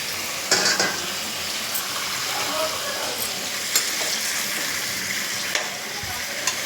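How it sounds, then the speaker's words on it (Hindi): Potatoes frying in hot oil with cumin, a continuous close sizzle with occasional clinks and scrapes of a utensil against the pan. "अब हम ये आलू डालते हैं इसके अंदर।"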